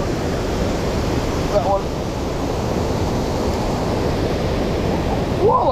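A waterfall roars in a steady, close wash of noise at a freshwater fishing spot in upstate New York, while a person speaks briefly over it.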